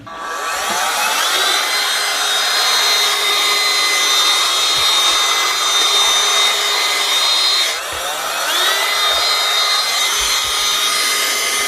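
A Kujo cordless handheld vacuum whirs loudly and steadily, its motor pitch dipping briefly and rising again, with faint scraping as it moves.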